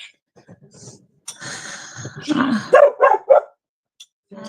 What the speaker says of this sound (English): That would be a dog.